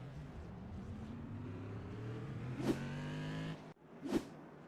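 An in-car view of a modified race car's engine during an iRacing TRS Tour Modified Series race at Langley Speedway: a steady droning engine tone that climbs in pitch, drops off briefly, then comes back, with two sharp transient bursts.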